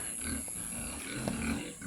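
Pigs on a provincial farm in the Philippines, including white and brown roasting pigs, give soft low grunts over steady background noise, with no clear talk over them.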